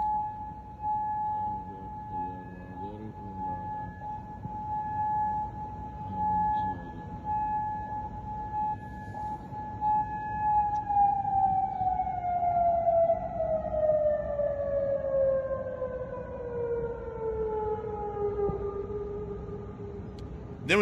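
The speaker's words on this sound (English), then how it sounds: "letting us hear the air defense sirens in Kuwait" A long wailing air defense siren in Kuwait holds a steady tone, then slowly winds down in pitch, sounding across open distance with faint background noise.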